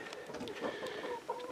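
Hens in a chicken coop on an off-grid homestead cluck softly and continuously, a faint, busy murmur of short calls.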